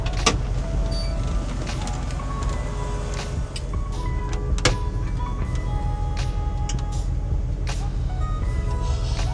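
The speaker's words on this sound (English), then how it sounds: "Close the garage right quick." A garage door closes in a home garage housing a Chevrolet C10 pickup, a steady motorized whir running throughout with faint clicks and knocks on top, with no one speaking.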